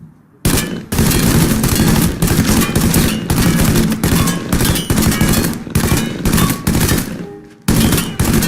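Sustained loud gunfire in the video game Mafia III, a dense continuous barrage of rapid shots that runs almost unbroken for several seconds, stops briefly, then resumes, with no voices.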